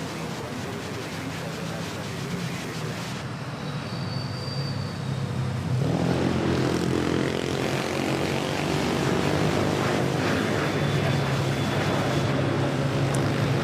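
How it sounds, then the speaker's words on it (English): A Gulfstream business jet takes off at Manila Airport, a loud, continuous broadband engine roar that swells and thickens midway through and holds steady to the end. Faint tones sit on top of the noise. "Had a Gulfstream takeoff."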